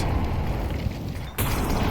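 A Counter-Strike 2 HE grenade detonates with a sudden loud boom partway through, cutting in over steady game noise and continuing as a broad blast wash.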